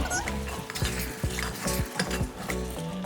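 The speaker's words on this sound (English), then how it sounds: "Squeeze the lemon, garam masala, mix this again." Curd, squeezed lemon and garam masala being mixed into vegetables for a clay-pot dum biryani, with repeated scraping stirs and a steady sizzle from the pot throughout, close and fairly loud.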